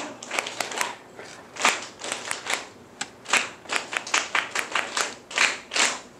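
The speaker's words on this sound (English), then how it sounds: "Let's whisper the words and clap the short and long sounds of the words." A class of young learners claps out the short and long sounds of rhyme words in whispered unison, a brisk run of crisp group claps in uneven rhythmic bursts, close and moderately loud, with no talk.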